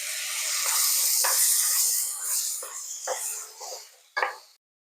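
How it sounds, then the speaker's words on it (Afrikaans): Frozen fish pieces drop into boiling curry sauce and set off a loud sustained hiss that gradually weakens into uneven sputters, with a final sharp spit before it falls silent. "So ek sit hulle so gevries in my kokende sous in."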